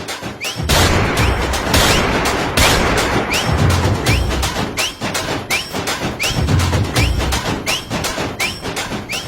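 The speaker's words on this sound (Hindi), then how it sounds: "वो गोलियां चला रही" Loud bursts of gunfire, rapid repeated shots and volleys cracking one after another over a rumbling background, continuing throughout.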